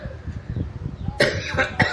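A voice speaks briefly, then he breaks into a few harsh, close coughs in quick succession.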